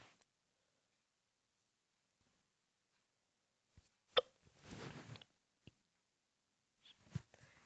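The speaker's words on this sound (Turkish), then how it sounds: "Bir bırakmadı şu hıçkırık beni ya." A person hiccups a few times in a quiet room during a game recording. The hiccups are short, sharp and well spaced, with faint breathing and small noises between them.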